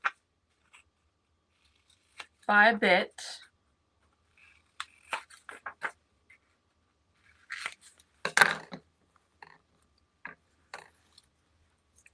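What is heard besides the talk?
scissors cutting craft paper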